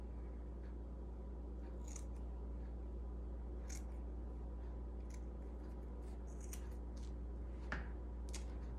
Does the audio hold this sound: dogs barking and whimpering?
no